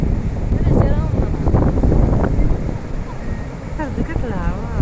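Strong wind buffets the microphone in a loud, continuous roar over a rough, churning sea, with people talking over it throughout.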